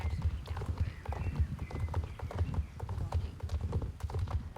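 A horse gallops in the video game Star Stable, its hoofbeats a quick, steady, close clip-clop rhythm running the whole time with no talk over it.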